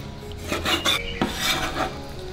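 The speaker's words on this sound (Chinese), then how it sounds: "瘦肉切成片" A knife slicing lean pork into pieces on a board, giving a few close, rasping cuts in quick succession with no talk.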